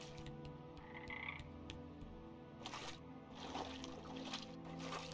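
Frog-like creatures croak repeatedly in a swamp in the video game Omno, a steady series of close croaks over a bed of trickling water and ambient game music, no talking.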